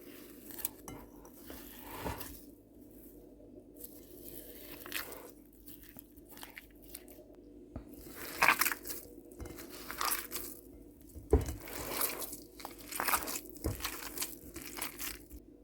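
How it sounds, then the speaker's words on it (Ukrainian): Hand mixing a soft Belgian waffle dough of margarine and a freshly added egg, giving faint, irregular squelching and sticky crunching sounds at close range. The kneading is quiet and uneven, with louder wet squishes and pauses between them. "Тепер додаємо одне яйце. І знову перемішуємо, знову ж таки, рукою."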